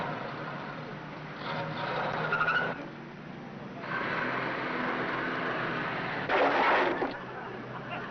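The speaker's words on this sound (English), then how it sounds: "Back it up, Andy, and put it in stall 7" A radio-drama sound effect of a car backing into a parking stall: a steady engine hum with tire squeals and skidding swells, heard alone, loud and close, in three bursts.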